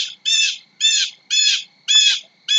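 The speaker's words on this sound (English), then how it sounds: "Dang bird." A bird gives five loud, harsh crow-like squawks in an even, repeating rhythm, each about half a second long with short gaps between, heard close and alone with no talking.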